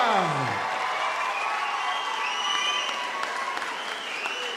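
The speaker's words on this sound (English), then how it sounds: "So give me some noise from the crowd." A boxing crowd at the Sunderland Live Arena cheers, whistles and applauds before a fight, a loud sustained roar of clapping and whoops under a falling tone and scattered shouts.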